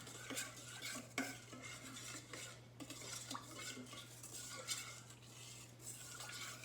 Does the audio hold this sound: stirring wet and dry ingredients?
yes